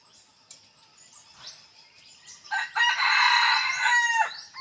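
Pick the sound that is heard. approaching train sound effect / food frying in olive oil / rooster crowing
rooster crowing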